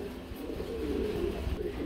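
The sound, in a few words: red Shirazi pigeon cooing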